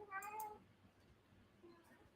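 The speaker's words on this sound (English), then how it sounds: "Pootie Tigger, that's my half cat." A house cat gives one short, fairly clear meow near the start, followed by quiet room noise and a faint second sound.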